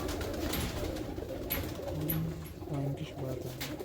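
Pigeons coo softly in a loft, low throaty calls repeating under a steady, faint background with a few brief higher chirps.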